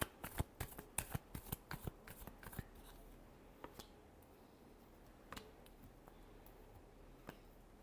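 Tarot cards shuffled by hand, a close, quiet burst of quick papery flicks and taps that thins out into a few scattered clicks over soft background hiss.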